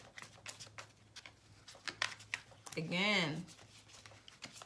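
Tarot cards being shuffled, a run of soft quick clicks and riffling patter, fairly close, with a brief voiced sound in the middle.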